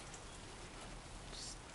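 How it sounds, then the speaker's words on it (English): Steady rain hisses down in the video game Death Stranding 2, a constant, even patter with no distinct drops or pauses, heard alone and fairly soft. "Still raining a lot,"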